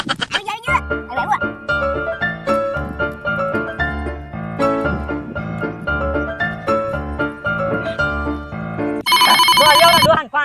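A telephone rings with an incoming call, loud and close, its synthesized melodic ringtone repeating in bright tonal bursts before a sharper electronic tone rises at the end; no speech over it.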